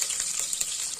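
Onions dropped into hot oil with mustard seeds in a pan, a brief steady hissing sizzle heard up close, with no talking.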